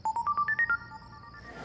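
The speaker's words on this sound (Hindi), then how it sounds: "इस वक्त किसका फोन आ रहा है तुम्हें बार बार?" Mobile phone ringtone for an incoming call: a quick rising run of bright electronic beeps, close and clear, cut off after under a second.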